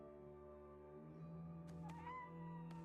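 A cat meows in the Skull and Bones pirate video game, a short cry standing out above a steady background of game music and ambience.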